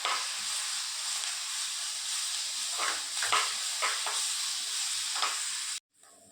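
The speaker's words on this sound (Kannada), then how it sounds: "ಜಿಂಜರ್ ಗಾರ್ಲಿಕ್ ಪೇಸ್ಟ್ ಹಾಕಿದ ನಂತರ ಚೆನ್ನಾಗಿ ಫ್ರೈ ಆಗಬೇಕು" Garlic and ginger paste sizzles steadily in hot oil for a vegetable kurma, with a few brief stirring scrapes mid-way before the frying cuts off near the end.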